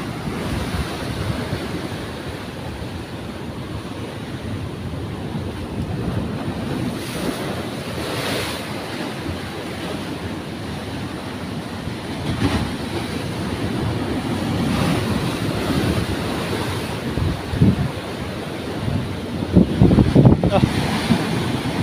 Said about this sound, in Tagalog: Okay, lakas ng alon